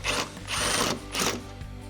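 Ratchet socket wrench with a 10mm socket turning a headlight bolt on a 2007-2013 Chevrolet Silverado 1500, three quick bursts of close, loud ratcheting clicks.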